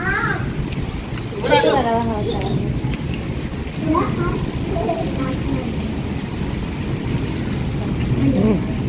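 Heavy summer rain pours steadily throughout, a dense close hiss, while people talk and call out over it.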